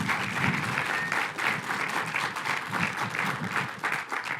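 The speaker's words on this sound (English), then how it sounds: "Round of applause for Mary" Audience at an essential oils company event for a wildlife sanctuary applauding steadily, a dense, moderately loud round of clapping with faint crowd murmur.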